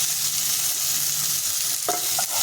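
Fish frying in oil makes a dense, loud, steady sizzle close by, with a faint low hum underneath and a brief clink of utensil near the end.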